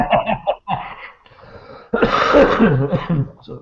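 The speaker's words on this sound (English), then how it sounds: "Sorry about the coughing." A person coughs and clears their throat in harsh, raspy bursts, close up, with a brief quiet gap before a longer, rougher coughing fit.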